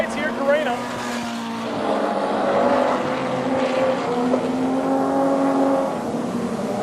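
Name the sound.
race cars powering down the straight at Carina Speedway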